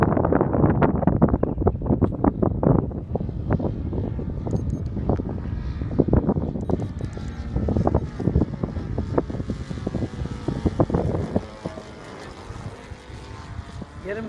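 A Saito FG40 four-stroke engine flies a Hangar 9 P-47 RC plane at half throttle while being broken in. Its steady drone runs throughout, buffeted by gusty wind noise on the microphone, with occasional voices nearby.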